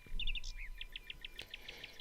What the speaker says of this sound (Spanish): De momento hemos utilizado estos pájaros.